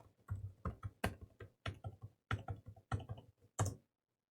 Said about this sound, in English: I will actually type in the correct password this time